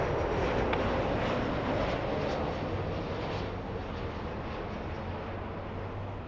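A Delta airliner rolls for takeoff on runway 24 left at LAX, its jet engines a broad, steady roar heard from a distance that thins slightly toward the end.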